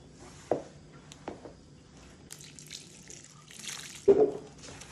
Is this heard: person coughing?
no